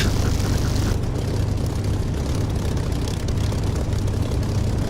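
Simulated aircraft engine in the DCS flight game throttling up for takeoff, a loud, steady low propeller-engine drone that shifts in tone near the start and holds constant.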